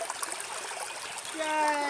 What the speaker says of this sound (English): Surprised at how much water is actually in this, because this is only a small system, this creek.